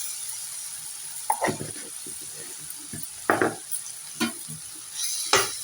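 Ginger frying in about a spoonful of oil in a pan, a faint steady sizzle broken by several short scraping stirs and clinks spaced a second or two apart, close by with no talk.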